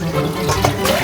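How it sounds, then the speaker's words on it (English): Water sloshes and swirls briefly as short-grain glutinous rice is rinsed by hand, close and fairly loud, with no talking. "Then wash the glutinous rice."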